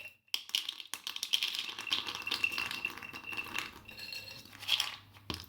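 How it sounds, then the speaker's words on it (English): Cashews poured into a coconut bowl, a series of light rattling clicks and small clattering taps as the nuts tumble in, close and fairly quiet with brief pauses. "Step 1, obtain coconut bowl. Add cashews."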